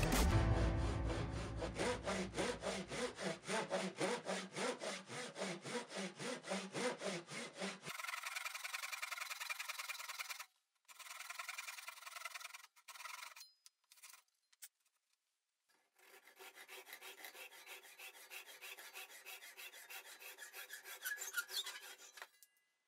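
A Japanese pull saw rasps through wood in quick, regular back-and-forth strokes, then lighter, broken scraping and brief pauses, finishing with softer steady sawing.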